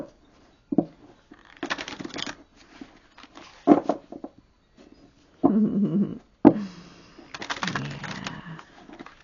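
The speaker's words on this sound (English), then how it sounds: "we're just going to make sure that these are shuffled well together" Tarot cards being shuffled by hand during a yes-or-no reading, soft riffling bursts that come and go in short irregular runs with quiet gaps between them, close and fairly soft.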